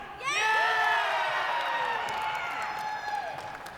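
A wrestling-event crowd roars, cheers and yells at close range, the loud shouting rising fast and then holding as a dense wall of excited voices with some clapping mixed in.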